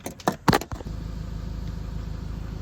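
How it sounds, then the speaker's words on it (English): A car engine idles steadily and close by, a low even rumble with a regular pulse, starting after a few brief jangling clicks and knocks of handling in the first second. "just doing another voltage test with the car idling"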